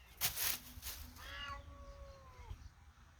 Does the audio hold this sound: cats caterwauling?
yes